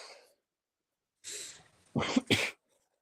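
A sharp sneeze, a breathy intake followed by two explosive bursts, close and fairly loud, with quiet before it.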